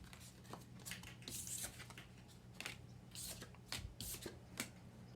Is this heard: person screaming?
no